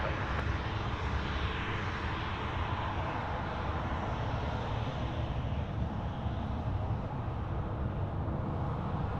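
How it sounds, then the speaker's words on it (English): A Qantas A330-300 airliner arriving from Christchurch comes in to land at Sydney Airport, a distant, steady jet roar that swells gently over several seconds, heard alone with no talking. "Qantas 7524 A330-300 coming in from Christchurch."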